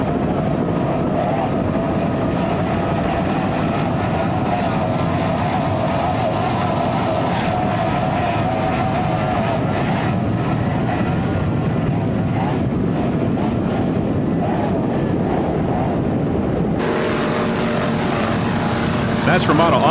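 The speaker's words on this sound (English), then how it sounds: "Ramada Offshore is a 30-foot Chris craft with a white hull and deck, powered by two 550 horsepower engines with Merc Cruiser drives" Loud, steady engine roar from an offshore racing powerboat, a white 30-foot Chris Craft with twin 550 hp engines on MerCruiser drives, running hard through the whole stretch with a shift in tone near the end.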